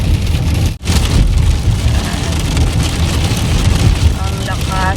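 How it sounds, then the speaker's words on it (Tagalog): Heavy, windy rain pours down outdoors in Canada, a loud, constant hiss of drops striking surfaces throughout with one brief dip near the start. "Ayan, lakas ng ulan guys kung narinig nyo"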